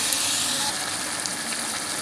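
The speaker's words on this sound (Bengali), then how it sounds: "দেখো লাউটা কত সুন্দর ভাজা হয়ে গেছে আর দেখো তেলটা চপচপ করছে" Bottle gourd pieces fry in oil with turmeric, a close, steady crackling sizzle that holds evenly throughout with no speech.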